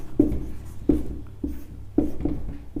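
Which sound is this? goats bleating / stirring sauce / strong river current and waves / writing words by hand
writing words by hand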